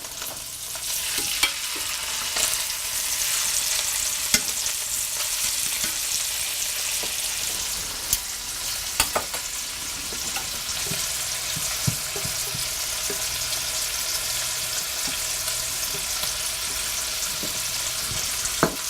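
Pork tenderloin frying in a pan, a steady dense sizzle with crackling pops that runs unbroken throughout, with no talking.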